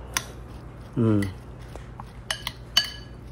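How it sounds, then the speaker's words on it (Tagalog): A ladle scraping and clinking against a bowl while pork belly kinilaw is stirred, giving a few sharp metallic taps spread out in time, with one short voiced sound in between. "Napapakahirap akong haluin gamit yung sandok na yun eh"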